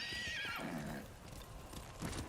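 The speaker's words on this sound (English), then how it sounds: "Yuriko's horse." A horse in the Ghost of Tsushima video game gives a loud, close whinny that falls in pitch, followed by soft clip-clopping hoofbeats, with no speech.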